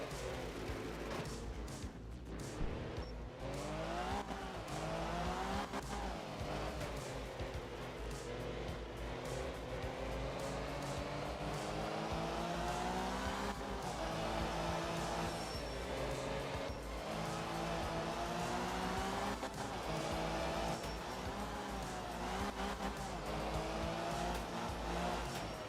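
A Mini rally car from the racing game Art of Rally drives hard, its engine carrying a V6-like note that rises and falls through gear changes, with tire squeal and skidding mixed in over a long continuous run.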